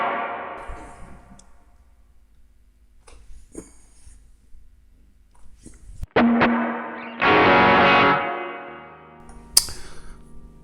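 Electric Telecaster-style partscaster guitar through an amp with reverb, open chords strummed from the bridge pickup, with quiet picked notes building to loud ringing strums and sharp accented hits, no talking.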